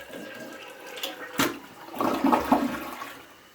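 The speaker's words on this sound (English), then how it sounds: "That's definitely a quicker flush." A repaired household toilet flushes quickly with a low gurgling rush of water, close by and moderately loud, swelling and then tapering off.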